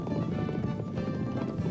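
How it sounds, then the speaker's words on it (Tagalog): Galloping racehorse hooves in an anime race, a quick, busy drumming of clip-clop beats up close over a dense background, with no voices over it. "Hindi lang isang ordinaryong kabayo si Fried Chicken"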